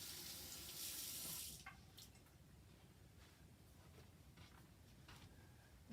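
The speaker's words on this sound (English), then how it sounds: "I'm going to wash my hands a bit to get the honey off." Tap water runs hard into a kitchen sink for about a second and a half as hands are washed free of honey, then cuts to quieter wet rubbing and splashes, close and with no talk.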